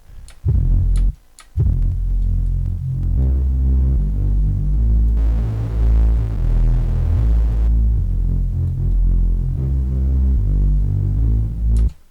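A deep, throbbing distorted synth bass pulses steadily and loudly, with a few sharp bursts near the start and a gritty buzz throughout.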